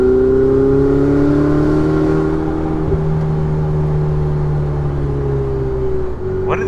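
A Ferrari 488 Spider's turbocharged engine drones loud and steady from the cabin on a mountain drive, holding a sustained whirring note at lower revs, with a brief knock near the end.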